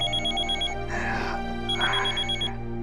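A telephone rings indoors in a mansion, with two clear electronic ring bursts over a steady tonal hum, close and moderately loud with no talking.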